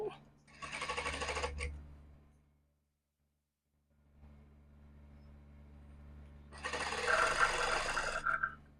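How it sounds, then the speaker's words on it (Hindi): Sewing machine stitching a seam on a salwar, running in two bursts of rapid, continuous needle chatter separated by a quiet pause, close and moderately loud, with a faint steady hum in between. "इस साइड भी हम सिलाई लगा लेंगे"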